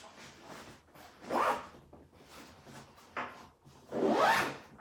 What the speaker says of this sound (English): the zippers are YKK 7 AquaGuard zippers, so really smooth, really strong